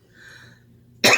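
One sharp, close cough bursts out at the end of a short stretch of quiet room tone with faint breathing.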